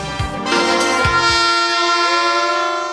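Air horns blown by young Chilean football fans before a match, a loud sustained blaring tone with a couple of short blasts at the start, then one long held note carrying on to the end.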